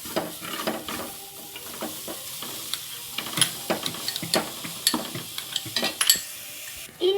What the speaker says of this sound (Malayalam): ഇതിലേക്ക് നമുക്ക് ഇനി ബീഫ് ഇട്ട് കൊടുക്കാം.